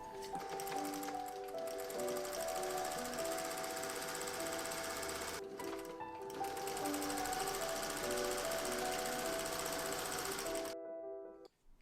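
Sewing machine stitching binding onto the edge of a silk blouse, running steadily and close with a fast rhythmic needle clatter, one brief pause midway, then stopping near the end.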